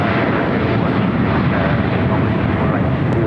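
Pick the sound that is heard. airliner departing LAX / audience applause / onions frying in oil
airliner departing LAX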